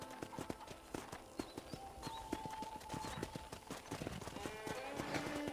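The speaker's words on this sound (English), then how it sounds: "let's see if you can still ride a horse" Horse hooves clip-clopping at a steady trotting rhythm while riding around a ranch in Red Dead Redemption, close and clear over faint ambient background.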